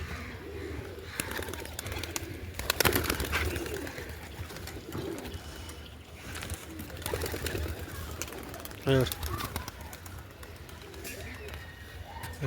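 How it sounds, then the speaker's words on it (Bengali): Pigeons coo in a loft, with soft intermittent calls rising through steady background noise alongside people talking nearby. "এই যে ভুলভাল করছে পায়রাগুলো"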